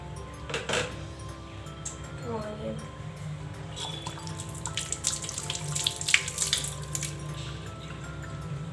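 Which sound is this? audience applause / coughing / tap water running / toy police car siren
tap water running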